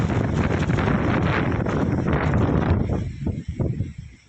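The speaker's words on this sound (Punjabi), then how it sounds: "ਇੰਨੀ ਜ਼ਿਆਦਾ ਤੇਜ਼ ਹਵਾ ਚੱਲੀ ਜਾਂਦੀ ਨਾ ਦੇਖੋ" Strong wind roars steadily into the microphone, a loud, continuous buffeting rush that eases and turns gustier toward the end.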